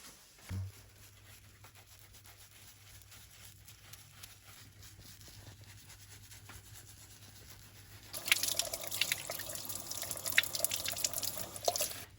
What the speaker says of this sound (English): Repeat this rubbing and rinse procedure about 3 times.